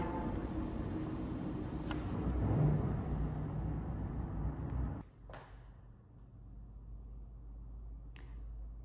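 Traffic noise carries into a townhome garage in downtown Fort Lauderdale as a steady, loud broadband rumble for about five seconds, then drops abruptly to a much quieter low hum.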